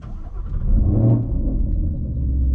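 A Whipple-supercharged Ford Mustang engine cranks and catches, settling into a deep, loud, steady rumbling idle close by, with no talk.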